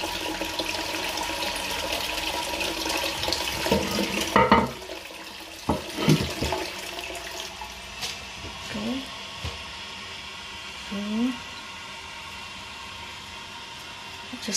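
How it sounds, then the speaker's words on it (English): A toilet cistern flushes with a steady rush of water that gradually settles into trickling refill, close by in a small bathroom, with a few clunks and brief handling noises. "Flush the toilet."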